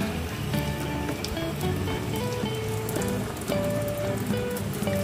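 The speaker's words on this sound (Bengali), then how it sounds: "একদম লাল লাল করে ভেজে নেওয়া হচ্ছে পুরো" Fuchka puris are deep-frying in hot oil with a dense, continuous crackling sizzle that stays close and steady throughout, with no talk.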